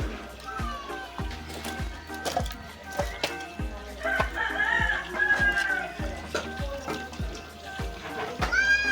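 Chickens clucking and calling at a rural family gathering, with rhythmic knocking or chopping nearby and people talking throughout.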